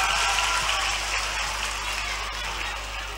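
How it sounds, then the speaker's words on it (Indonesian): Group applause from people gathered together, a steady, moderately loud patter of clapping that fades slightly toward the end, with a low hum underneath. "Tepuk tangan untuk kita semua."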